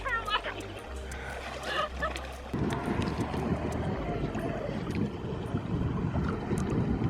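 A small brushless motor on a Pro Boat Veles 29-inch RC catamaran hums steadily over open water, its pitch shifting as the throttle eases, with wind noise and brief voices and splashes.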